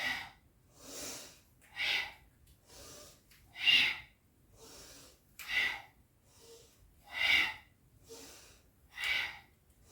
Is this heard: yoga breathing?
yes